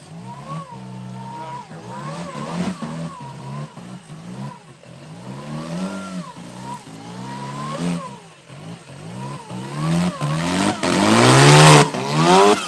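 An off-road race car at King of the Hammers revs hard through a course gate, its engine rising and falling in repeated surges, with tire scrabble and a loud, close roar building toward the end.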